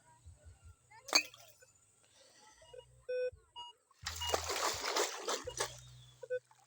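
A small catfish is released back into river water while metal detecting underwater in Uruguay, giving a burst of splashing and sloshing around the middle, with a few faint clinks and brief low voices before and after.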